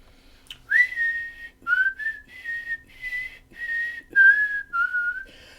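A person whistles a bright melodic tune in a video game stream, a series of clear sustained notes with small slides and short pauses between phrases, close and alone with no talking.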